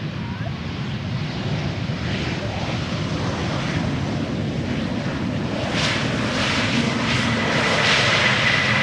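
A heavy airliner arriving at Amsterdam Schiphol Airport roars steadily at a distance, its broad engine rumble swelling louder toward the end, with wind buffeting the microphone throughout.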